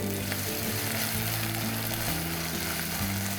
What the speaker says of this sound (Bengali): আবার একটু নেড়ে নিচ্ছি